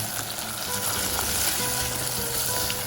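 Onion and tomato sautéing in a pan with chili powder and turmeric for an omelette curry, a steady close sizzle and crackle throughout with faint stirring scrapes and no speech.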